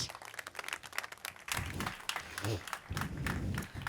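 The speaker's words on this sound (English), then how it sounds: "please, a warm round of applause for Katrien and Frederik" Audience applause at a hosted Scale-up Flanders event, welcoming two speakers to the stage; steady clapping of a moderate crowd, fairly close, swelling slightly toward the end with faint voices mixed in.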